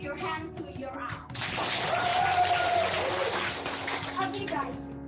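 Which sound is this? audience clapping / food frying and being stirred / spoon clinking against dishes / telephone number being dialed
audience clapping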